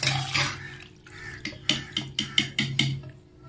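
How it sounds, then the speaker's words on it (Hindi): Boiled pasta poured through a strainer onto a plate, with an initial watery pour followed by a series of short, close splashes and drips as the last water drains off the pasta. "अब मैं इसको पौनी से छान लूंगी थाली में, देखिए इस तरीके से।"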